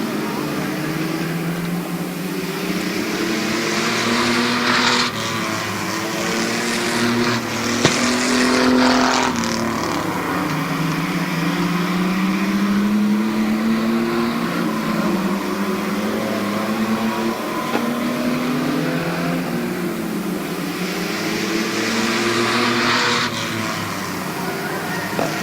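Race cars circling at Barberton Raceway Park, engines droning and rising in repeated passes, with pitch sweeping as cars approach and recede, steady and moderately loud throughout under a commentator's voice.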